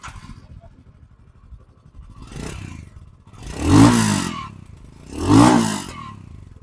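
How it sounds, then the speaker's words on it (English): A Royal Enfield Scram 440 motorcycle idles with a low, thumping exhaust, then gets two strong throttle blips that swell loudly and fade back to idle, recorded up close. "let's hear what the Scram 440 sounds like"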